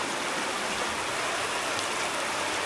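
Steady heavy rain pours down while runoff water streams along the ground during a bicycle trip to Greece, a dense, even wash of noise with no pauses and no voices.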